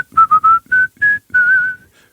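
A person whistles a short Vivaldi melody up close, a clear tune of several quick notes followed by longer held tones, with no other sound.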